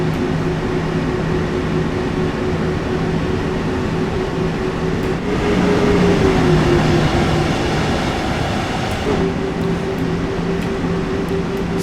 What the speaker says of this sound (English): extremely powerful locomotive. This one, it's the one that so this is a Siemens locomotive.